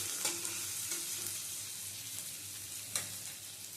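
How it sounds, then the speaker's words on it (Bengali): Curry being stirred in a pan over low gas, with cashew nuts in the mix: a soft, steady sizzle with a few light scraping strokes of the spoon, close and quiet, no voices. "এটা দিয়েও ভালো করে একটু নেড়ে চেড়ে নিলাম। গ্যাসের স্টিমটা বেশ হাইতে রাখিনি, লোতে রেখে রান্নাটা"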